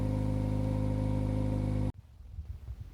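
A 2020 Jaguar XE AWD idles high on a cold start, a steady close engine drone for about two seconds before it cuts off abruptly, leaving faint low rumbling.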